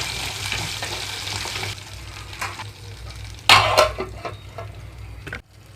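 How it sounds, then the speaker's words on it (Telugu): Green chillies and fenugreek seeds fry in hot oil for a chilli chutney, giving a loud, dense sizzle under a lid. It eases midway, flares in a sharp crackling burst, then cuts off abruptly. "మెంతులు వేగేటప్పుడే పచ్చిమిరపకాయలు కూడా వేస్తున్నాను మూత పెట్టేసి కొంచెం వేయించుకుంటున్నాను"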